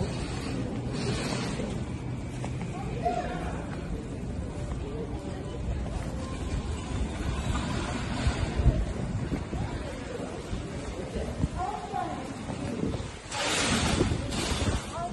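Wind blows just outside a store in steady gusty rushes, buffeting the microphone, with a stronger gust near the end and some faint voices mixed in.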